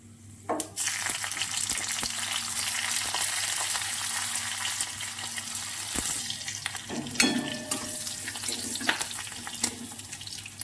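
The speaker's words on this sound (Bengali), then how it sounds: "একটু ভেজে নেব।" Green chilies frying in oil in a pan for a vegetarian dish, a steady close sizzle with a few sharp crackles and spatters, no talking.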